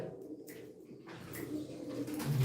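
Pigeons offered for sale at a live auction coo softly in low repeated throaty pulses, close by and fairly quiet, with no talk over them.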